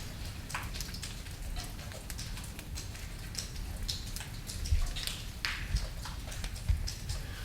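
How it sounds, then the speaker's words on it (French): Rain falling outside an abandoned sanatorium, heard as a steady patter of drops on surfaces with scattered sharper taps and a low background rumble, continuous throughout. "La pluie."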